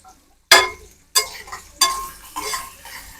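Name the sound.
vegetables being stirred and fried in a pan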